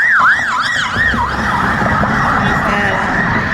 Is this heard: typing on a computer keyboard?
no